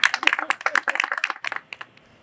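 Brief burst of audience clapping at a building handover ceremony, a quick flurry of sharp hand claps that thins out and fades within a couple of seconds.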